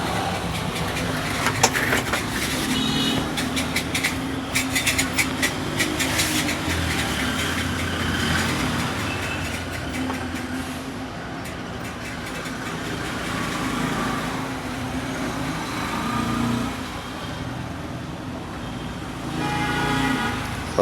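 Continuous roadside traffic outside a phone repair shop, engines rumbling and idling with vehicles passing near and far, faint horn toots and clattering bursts rising and falling over a steady background roar.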